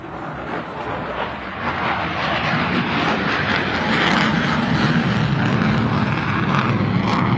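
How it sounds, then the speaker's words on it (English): An F-35C fighter jet makes a low-speed pedal turn during a July 4th flyover above the National Mall in Washington, D.C., a loud, sustained engine roar that swells gradually toward the end. "This demonstrates the maneuvering capabilities of the F-35C at low speeds and high angles of attack."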